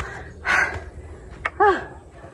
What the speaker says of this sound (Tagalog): Hinihingal nga ako yung gumawa dito.